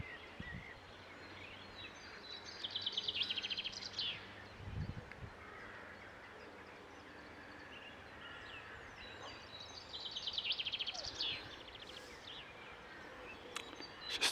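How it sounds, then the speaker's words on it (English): Birds singing in open countryside, faint bursts of chirping twice over a quiet background with light rustling, distant and alone. "just listen to the birds"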